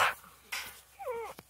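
A dog near a pig lets out a short, high, wavering whimper after a couple of soft noises, brief and fairly close.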